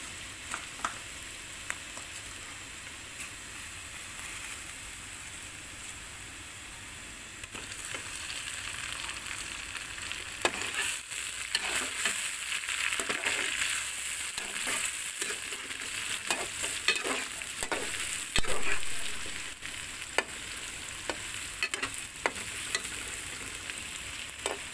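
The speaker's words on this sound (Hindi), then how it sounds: "अब मैं इसमें डाल रहा हूँ 2 बड़े साइज़ के कटे हुए टमाटर" Chopped tomatoes sizzle in oil with browned garlic-ginger paste, a steady hiss that grows louder midway as a spoon scrapes and stirs in irregular strokes, with no talking.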